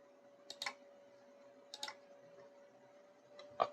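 A computer mouse clicks sharply three times, spaced over a few seconds, against a faint, steady electrical hum in a quiet room.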